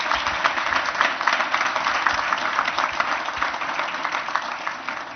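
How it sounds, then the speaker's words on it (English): A steady wash of applause from a gala audience honoring scholarship recipients, dense, even and sustained throughout, with no voices above it. "And I think they all deserve a big round of applause."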